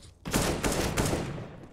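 Rifle gunfire on Dust 2 in CS:GO during a professional esports match, a rapid burst of several sharp loud shots in quick succession after a brief quiet start.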